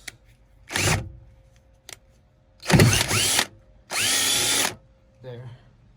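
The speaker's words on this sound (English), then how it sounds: "I have to drill for the inserts" A power drill bores holes into heavy-duty floor mats for a Mahindra Roxor, sounding in three loud whirring bursts of about a second each, separated by short pauses, with faint background noise.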